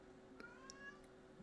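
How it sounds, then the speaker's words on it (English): A cat meows softly a few times, short faint calls close by against a quiet background. "what are you meowing about, my guy?"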